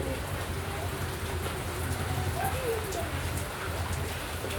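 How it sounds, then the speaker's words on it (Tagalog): Steady rain patters continuously on a surface, a dense, even hiss with low rumbling underneath, as though heard from close by. "Umuulan-ulan po niyan, malamig ang panahon."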